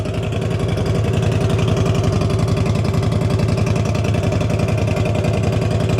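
A CFMoto ZFORCE 950 side-by-side fitted with a new GGB exhaust idles steadily from behind, a deep, even rumble with a fast regular pulse that holds at a constant loud level throughout.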